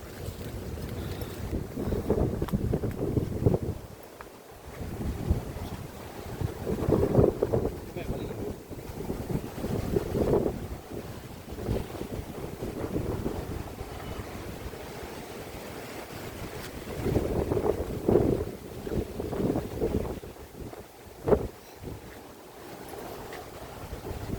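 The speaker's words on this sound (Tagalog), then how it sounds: "Napakalakas po ng hangin." Strong wind buffets the microphone in long roaring gusts, with splashing water underneath and occasional voices.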